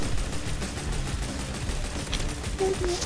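A ray gun firing in the Roblox game Mad City, a rapid stream of buzzing shots running steadily throughout, with a brief tonal blip near the end.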